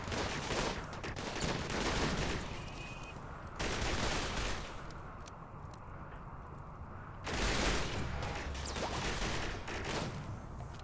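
Turrets in a Rimworld game open up on attacking buffalo, unleashing sustained rapid gunfire in three loud bursts separated by quieter stretches where the game's background sound continues.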